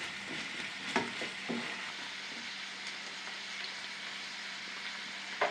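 Carrot and onion frying together in a wok, a steady close sizzle with a few soft stirring knocks, no talking.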